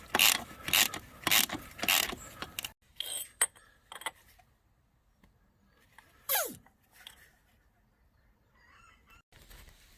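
Ratchet tightening the bolts on an International TD6 steering clutch, a few bursts of rapid clicking early on, then sparse clanks and a squeaky sweep, fairly close in a quiet workshop.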